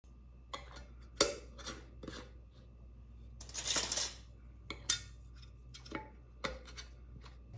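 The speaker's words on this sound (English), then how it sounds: "I'm just double checking to make sure that all of the jars are finger tight." Glass canning jars of chicken broth being wiped at the rims and their lids tightened, giving several sharp clinks and clatters spread over quiet stretches, with one longer scraping rustle in the middle.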